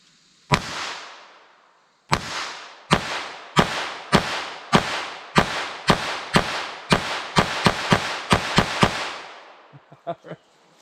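A Taurus TX22 .22 LR pistol fires about sixteen sharp shots outdoors, with one opening shot, a pause, then a steady rapid string whose pace quickens near the end, each report followed by a short decaying echo.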